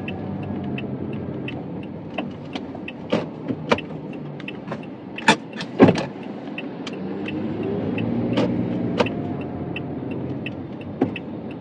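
A car drives along a city street on a Happy Valley driving test route, a steady road and engine rumble inside the cabin, punctuated by repeated sharp ticking clicks like an indicator or controls.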